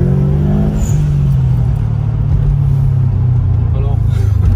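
Car accelerating hard on a race circuit, a loud close low rumble building steadily through the whole stretch, with someone speaking over the engine.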